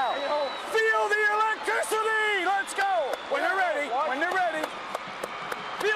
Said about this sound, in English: Several thousand people behind us are just bonkers right now.